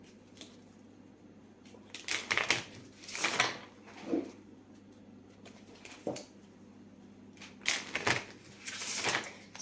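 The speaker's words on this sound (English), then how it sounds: "Now let's take some few cards from the Moon Witch Oracle." Moon Witch Oracle cards being handled and shuffled in short bursts of papery flicking and riffling, close and fairly quiet, separated by brief pauses.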